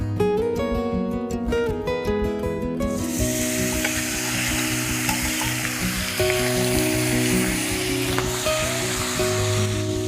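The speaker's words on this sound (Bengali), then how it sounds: "এবার মাংসগুলোকে কড়াইতে দেব" Pieces of country duck meat hit hot oil in a wok already holding whole chillies and bay leaves, bursting into a loud, close, continuous sizzle with occasional stirring scrapes.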